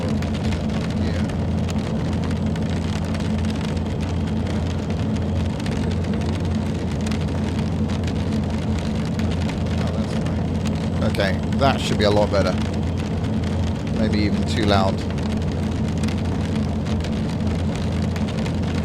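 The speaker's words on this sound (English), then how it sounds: "What, the rain is too much?" Steady rain drums on an aircraft cockpit in X-Plane 11, a dense continuous hiss over a low engine drone, with someone talking partway through.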